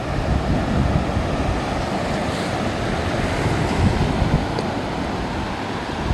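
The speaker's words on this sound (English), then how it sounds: "some pretty decent swells are coming in" Ocean swells roll in and break on a beach as a continuous loud, rushing wash of surf with wind buffeting the microphone, with no voices.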